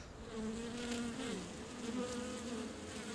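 Honey bees buzz at a hive in a steady, close, droning hum with shifting pitch, faint but continuous throughout.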